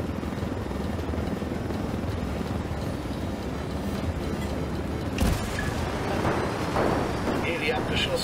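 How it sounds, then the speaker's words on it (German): A helicopter in the video game Ghost Recon Wildlands, set in Bolivia, gives a steady, loud rotor drone that fills the clip, with a sharp burst partway through and rougher engine swells afterward. "Schalten wir diese Hubschrauber aus."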